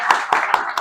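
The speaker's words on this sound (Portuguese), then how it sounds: "Palmas para os nossos amigos." A few distinct hand claps, about four sharp strikes spaced roughly a quarter second apart, from a small audience at a talk on anxiety and self-control applauding volunteers who held up a book.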